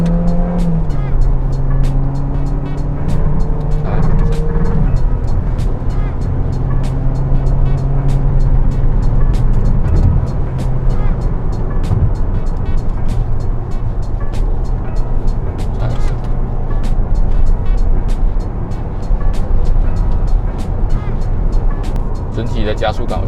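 A Kia Optima K5 drives and accelerates through its gears, with a steady, loud engine and road roar whose pitch climbs and dips at each shift as a voice talks over it.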